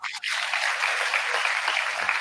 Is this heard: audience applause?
yes